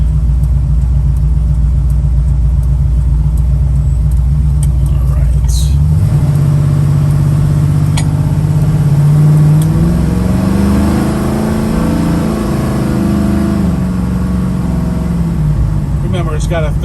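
A 1981 Chevrolet Camaro with a 3800 stall converter accelerates, its engine rumbling low and loud, then rising in pitch through several gear shifts, close and steady throughout.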